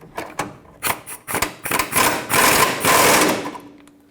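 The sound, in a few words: tightening control arm bolts on a Fiat 500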